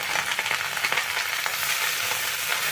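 Pumpkin greens stirred in a frying pan for a vegetarian dish with ground lentil paste, giving a continuous close sizzle with soft scraping and shuffling of leaves, no voices.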